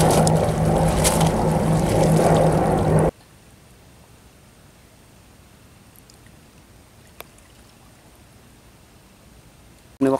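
A warship passes on the water, a loud broad rush of engine and water noise for about three seconds that drops away abruptly to near quiet, with a faint click later.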